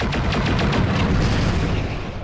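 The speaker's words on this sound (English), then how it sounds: "The Orion fires back with everything it has." Heavy mech weapons fire in a BattleTech clash between an Orion and an Ebon Jaguar, with a rapid burst of booming gunfire and explosion effects, loud and dense, then a rumbling tail.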